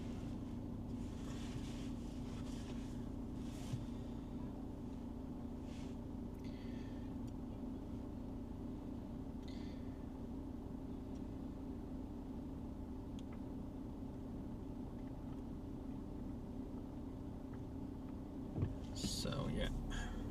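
Car driving through the Kranichstein district of Darmstadt city, a low steady road and engine rumble heard from inside the cabin, fairly quiet, with faint wind noise and a brief knock near the end.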